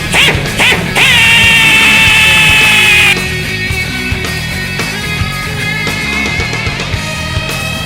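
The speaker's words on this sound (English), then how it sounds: "Drill this hole." A power drill whines at a steady high pitch for about two seconds drilling a hole through a metal plate, then the motor drops off, leaving clanks and shop noise.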